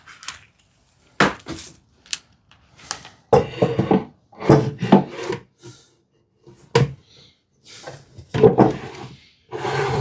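A wooden drawer on a hand-built TV unit is worked in and out, giving a series of sliding scrapes and knocks in irregular bursts with short pauses between them, close and clear, no speech.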